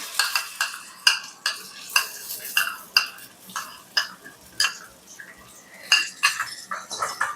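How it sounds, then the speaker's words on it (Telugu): A spoon stirs spice paste, ground in a mixer, into onions and curry leaves frying in a pan for uggani. Close, rhythmic scraping strokes repeat about a dozen times over a soft sizzle, with no talking. "పేస్ట్ వేసుకొని కలపెట్టుకోవాలి"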